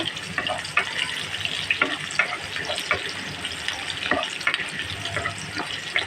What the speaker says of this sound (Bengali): পেঁয়াজ কুচিটা দিয়ে আমি কিছুক্ষণ নাড়াচাড়া করে নেব একটু ভেজে নেব